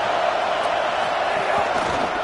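Dense stadium crowd roar from an NCAA football video game, Miami versus Clemson, a loud continuous wash of massed voices without breaks.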